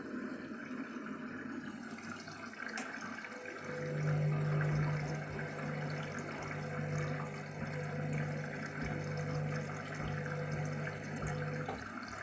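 A Candy washing machine fills with water on a duvet and quilt wash cycle, with a steady rushing inflow that swells louder after a few seconds and continues evenly throughout, close by and without talk.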